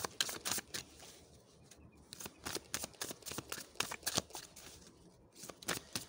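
A tarot card is drawn from a deck. The cards give a quick series of soft, close rustles and papery flicks, quiet and unbroken by talk.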